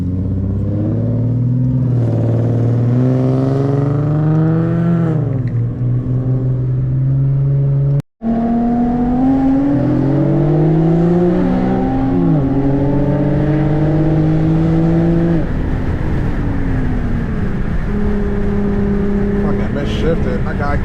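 An Infiniti car fitted with coilovers drives and shifts, its engine note rising through several revving pulls with gear changes between, loud and close from inside the cabin, with a brief dropout partway through.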